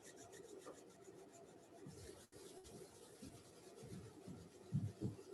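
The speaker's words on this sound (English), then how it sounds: "rub your palms." Palms rub briskly together during a breathing and meditation practice, a soft continuous dry friction close to the ear, steady at first and growing slightly louder near the end.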